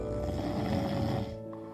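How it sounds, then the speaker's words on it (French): A sleeping father gives one loud, drawn-out snore as an audio-drama sound effect, a deep rasping rumble heard alone that fades toward the end. "Un ronflement sonore le fit sursauter."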